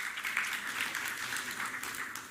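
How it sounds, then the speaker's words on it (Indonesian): A crowd at an Indonesian political gathering applauds in a steady, dense wash of clapping heard from a moderate distance, with no talk over it. "Aplaus kepada Bagas."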